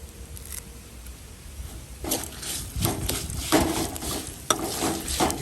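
Cumin seeds and curry leaves frying for a temple-style saaru, a soft sizzle that swells after a couple of seconds, with stirring scrapes and a few utensil clinks close by.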